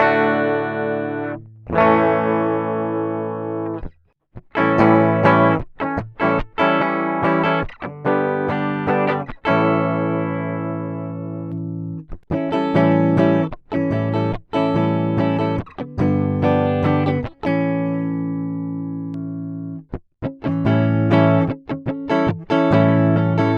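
A Firefly FFLP electric guitar played through an empty clean setting rings out in chords and riffs of strummed and picked notes with short pauses, loud and close for over twenty seconds with no talk.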